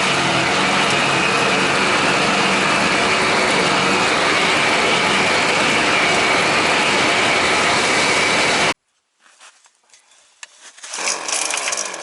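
Sherp amphibious ATV driving in Yakutia, a loud, steady engine roar that cuts off abruptly, followed by quieter rumbling as the engine noise builds again.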